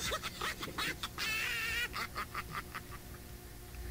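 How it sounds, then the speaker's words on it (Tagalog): Distant poultry clucking and squawking, several birds calling over each other against a steady background hum, with no one speaking. "Parang farm yata ng manok yun dyan ah."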